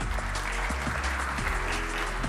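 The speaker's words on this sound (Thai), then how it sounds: "ปรบมือดังๆต้อนรับคุณหยงธำรงชัยเอกอมรวงศ์ครับ" An audience at a trading seminar claps to welcome a guest speaker. The steady applause sits under a loud, low droning background.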